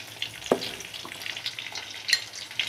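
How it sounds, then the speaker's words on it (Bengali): Meat fries with onion, garlic and cumin pastes for halim, a soft continuous sizzle with occasional sharp spits and stirring scrapes close by. "এখন মশলাটা ভালো করে 1 থেকে 2 মিনিট কষিয়ে"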